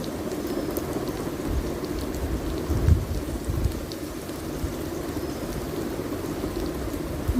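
Onions frying in oil for a mixed vegetable bhaji give a steady, dense sizzle and crackle throughout, close and even, with a few louder pops and stirring bumps and no talking.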